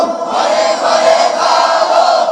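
Large crowd at an outdoor Bangla religious sermon gathering roaring a joyful takbir response in unison, a loud sustained mass shout lasting the whole moment.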